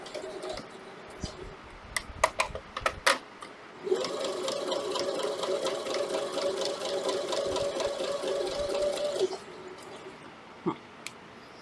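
A sewing machine stitches quilt panels in a steady, rapid mechanical run lasting several seconds, framed by scattered clicks and handling taps before and after.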